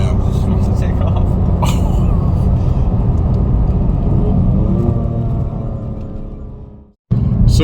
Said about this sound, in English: these turbos sound sick